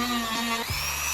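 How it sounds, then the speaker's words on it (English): Dremel rotary tool grinding down a motorcycle brake reservoir mount part, a close, high whine that drops in pitch briefly as the bit bites, then steadies. "let me just grab my Dremel and run that real quick"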